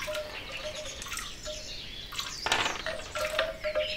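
Birds chirp and tweet in short repeated calls within a calm attention-training soundscape, moderately close with a light watery ambience beneath and no talking.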